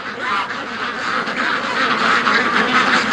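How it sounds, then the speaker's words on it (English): A group of ducks quacks continuously and loudly, close by, while pecking at hard carrot scraps, their calls overlapping in a dense, busy chatter with no talk. "Oh, look at the ducks eating the carrot scraps."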